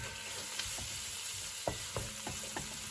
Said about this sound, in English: I'm just going to saute those into the butter.